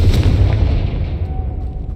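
A Confringo fire spell bursts in the video game Hogwarts Legacy as a loud, deep booming blast that rolls and fades over a couple of seconds.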